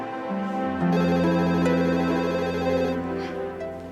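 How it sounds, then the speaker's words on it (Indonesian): A telephone rings indoors in a home, a steady electronic ringtone with sustained tonal notes holding for several seconds, loud and close, with no talking over it. "Ada telepon."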